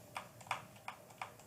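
Linear keyboard switches with no click or tactile bump are typed on in a quiet, soft rhythm of about four clear keystrokes, close up, with no talking.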